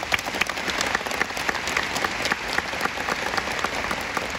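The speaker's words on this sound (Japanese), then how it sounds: "盛大な拍手をお願いします" Sustained applause from a large audience at a university entrance ceremony, welcoming top student athletes; dense, steady clapping throughout with no voices over it.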